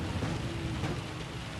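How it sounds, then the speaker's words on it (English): Heavy torrential rain in the Gran Turismo 7 racing game at the Red Bull Ring, a dense, loud continuous roar of downpour with a low rumble underneath and no voices. "Just going to try and brave the most of this heavy rain."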